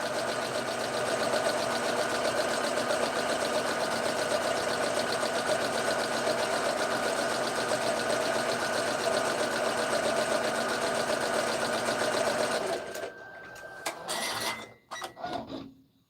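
A sewing machine stitches a purse with a fast, steady mechanical whir held close and continuous for about twelve seconds, then halts into a few scattered clicks and handling knocks.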